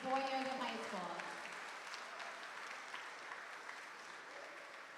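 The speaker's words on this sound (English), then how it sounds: "give a good clap to your parents and families that supported you through 4 years of high school" Audience at a Lynn Classical High School alumni and friends awards event clapping for parents and families, a steady sustained round of applause with a voice briefly audible at the start.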